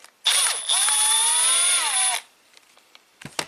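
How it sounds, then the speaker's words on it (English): A cordless power tool whines loudly for about two seconds while backing a screw out of a Cadillac Allante convertible top part, its pitch sagging under load, followed by quiet handling and a few clicks. "Let's unscrew this thing, see what's inside."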